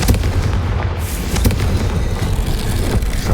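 A Confringo blasting spell explodes in a Harry Potter video game, producing loud, sustained booming blasts with a heavy low rumble and sharp cracks throughout.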